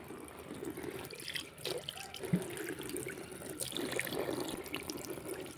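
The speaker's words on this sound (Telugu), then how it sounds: "ఆ రోజా చెట్టుకు నీళ్ళు పోయిపో" Water is poured onto a rose plant, making a faint continuous splashing trickle with a few small drips, quiet and steady throughout.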